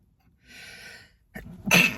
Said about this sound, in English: am I going to sneeze?